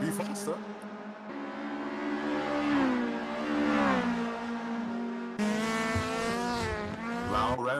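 A VW Golf GTI race car's engine at speed howls loudly and rises in pitch through the gears, with a sudden louder shift as another car passes close, under continuous excited commentary.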